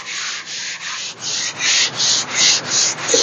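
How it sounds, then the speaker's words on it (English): Hand sanding with 120 grit sandpaper during primer prep makes close, rhythmic rasping strokes, about eight back-and-forth swipes growing steadily louder. "So a second ago, I was sanding this at 120."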